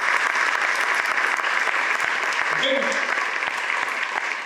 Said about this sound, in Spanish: Ahora, dale un aplauso al Señor.